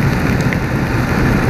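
Steady heavy rain pours in a dense, loud hiss with a low rumbling undertone, continuous and close, with no voices.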